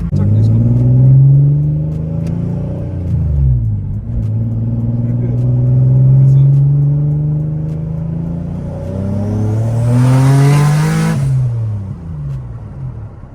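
A Q50 car with a flame tune revs up hard at full throttle several times, each surge rising in pitch and then dropping, loud and close, with a rushing wind noise during the last pull.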